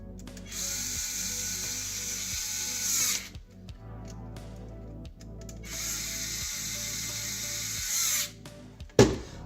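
A power screwdriver drives screws into hexapod robot parts in two long whirring bursts, each ending in clicking clutch ratchets, with a sharp clack near the end.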